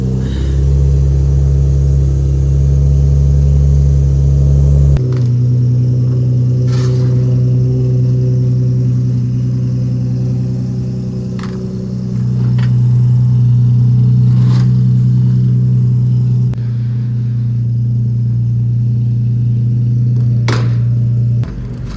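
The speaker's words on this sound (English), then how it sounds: "We're driving a real car today, bud." A car engine rumbles and revs steadily for about 22 seconds, with a loud low drone that shifts pitch as the car pulls away and drives on, and a few faint clicks over it.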